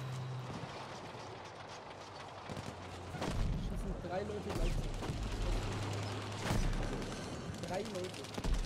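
Gunfire in the video game Battlefield 5, with dense, repeated bursts of shots and heavy blasts scattered through a continuous battlefield din, loud and close, mixed with a player's voice and game noise.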